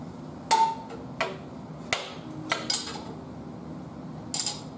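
Metallic clinks and taps from tightening the base bolts on a rotary valve cylinder with a wrench, a handful of crisp, irregularly spaced strikes close by in a quiet room.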